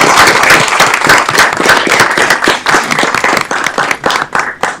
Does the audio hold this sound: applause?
yes